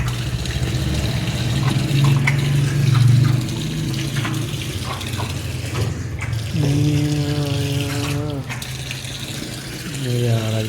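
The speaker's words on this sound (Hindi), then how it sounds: "और देखिए पानी भी शुश होती है और आ रही" Water running from a tap at home, a steady rushing flow heard under talk, with a rising whistling or humming tone appearing twice later on.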